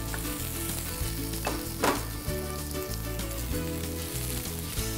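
Shrimp frying in a pan with olive oil and minced garlic, a steady close sizzle with stirring scrapes, one brief louder hiss near the middle, over a faint rhythmic background hum.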